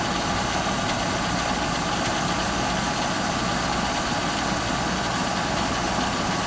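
Oil furnace burner fired up and running, with water issues in the oil tank: a steady, dense roar and hum, close and constant throughout with no pauses or talk.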